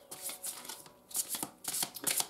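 Tarot cards being shuffled close by in quick, rustling bursts that come in several rapid riffling passes separated by short pauses, with no talking.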